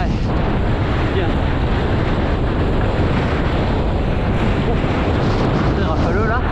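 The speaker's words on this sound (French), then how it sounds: "C'est rafaleux là." Gusty wind roars over the microphone during a kitesurfing session on the sea, loud and unbroken buffeting that drowns out any water sound, with no talk heard.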